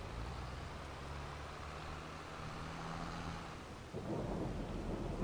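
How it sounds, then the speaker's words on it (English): Rolling thunder rumbles low and continuous under steady rainfall during a stormy spell in the Farming Simulator video game, with the rain growing heavier toward the end, faint overall and without speech. "Uh-oh, it started to rain."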